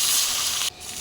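Pieces of bata fish marinated in salt and turmeric fry loudly in a hot pan, a close, bright sizzle that suddenly drops to a softer crackle partway through.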